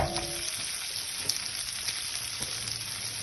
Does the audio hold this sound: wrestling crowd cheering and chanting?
no